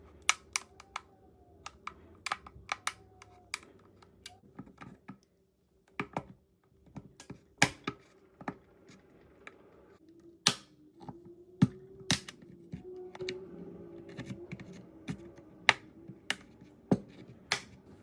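Plastic clips of a DJI RC-N3 remote controller housing pried open with a thin plastic pry tool, a series of sharp, irregular snaps and clicks, close and distinct over faint handling noise.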